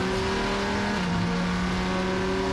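A Viper GTS-R race car drones loud and steady on the Mid-Ohio track during the 2013 ALMS season, its engine note holding a sustained pitch with a slight drop partway through.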